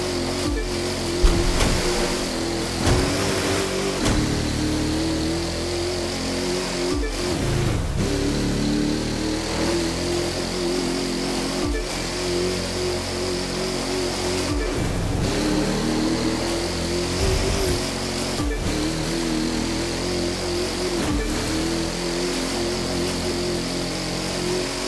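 Jetsprint boat engines race in The Crew 2 video game, a sustained droning roar with rising and falling revs over splashing water, steady and loud throughout with periodic sharp bursts.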